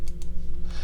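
A computer keyboard key is pressed with two quick clicks and a soft rustle, close and distinct over a steady electronic hum.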